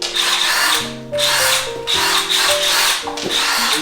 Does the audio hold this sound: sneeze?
no